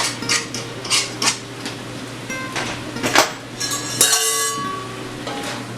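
Spoon stirring beef chili with chopped red and yellow peppers and jalapeño in a pot, giving scattered clinks and scrapes against the pot over a steady low hum, close and moderately loud.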